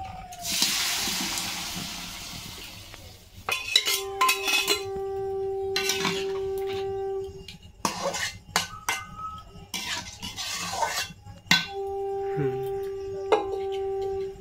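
Metal cookware clatters and clinks near at hand as soft, pressure-cooked duck meat is moved into a wok, with scraping, ringing taps and rattles in several bursts between brief quieter gaps.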